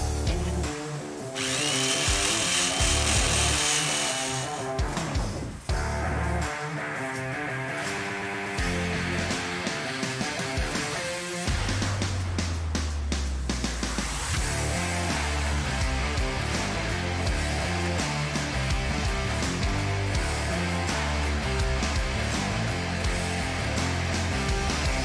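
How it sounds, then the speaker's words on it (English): A wire wheel grinds rust off a Classic Mini engine bracket, a loud continuous whirring scrape that spins up, dips briefly, then runs steadily with shifting pitch as the bracket is pressed against it, with no talking. "Now I'm going to remove the remaining rust with a wire wheel just to make it quicker"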